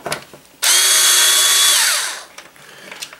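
A power drill whirs loudly for about one and a half seconds as it backs screws out of a fat PlayStation 3 console. The motor spins up sharply and holds a steady high whine, then slows and fades away.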